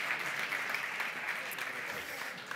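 An audience at the Perico que Vola awards ceremony applauds, a steady, dense wash of clapping hands that holds at an even level throughout.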